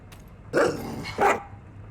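Dog in the video game Master Detective Archives: Rain Code giving two sharp, close barks about half a second apart, loud and clear over a quiet background.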